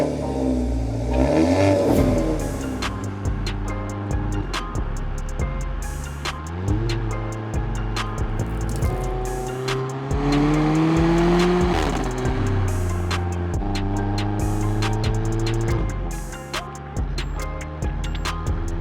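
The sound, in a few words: car engine accelerating while driving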